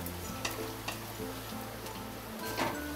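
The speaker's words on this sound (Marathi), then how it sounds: "हे बघा, ह्याच्यामध्ये आता 1 चमचा 1/2 चमचा आहे लसूण, आलं आणि सुक्क खोबरं, हे चांगलं भाजून घ्यायचं" Garlic, ginger and dry coconut roast in a pan with a steady close sizzle and occasional scraping stirs, no talking.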